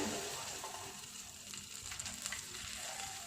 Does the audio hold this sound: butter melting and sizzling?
yes